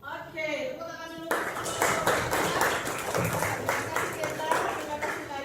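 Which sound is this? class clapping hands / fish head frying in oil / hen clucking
class clapping hands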